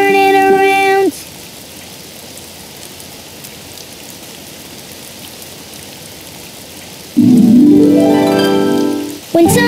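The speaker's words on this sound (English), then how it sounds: "Oh, it's raining outside." Cartoon rain falling outside: a steady, even hiss of rainfall, moderately loud, holding alone for several seconds between brighter bursts of music at the start and end.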